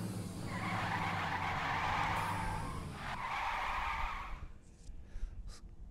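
Car tires squealing through a burnout in the video game LittleBigPlanet 3, a sustained screeching skid over an engine rumble that breaks briefly, resumes, then cuts out into quiet with faint clicks.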